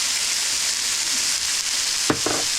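Shrimp with shiitake and oyster mushrooms sizzle steadily in a skillet, a loud even hiss throughout, with a couple of brief clanks of a utensil against the pan near the end.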